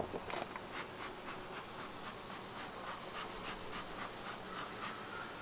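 Honey bees swarming over an opened hive during a nectar dearth, a dense continuous buzzing hum with a faint rhythmic pulsing, close by and with no voices.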